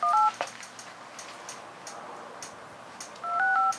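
Phone dialer keypad tones on an Android phone: two short beeps at the start and two at the end, with soft taps and ticks between them, close and clear, with no talking.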